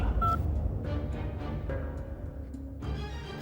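A short series of telephone keypad tones beeps out one after another, each a brief clear tone, with a quiet pause between them.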